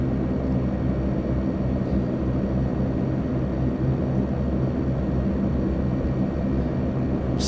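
Twin Otter twin turboprop engines run steadily in the flight simulator FSX while the aircraft taxis, a constant loud low drone with no voices over it.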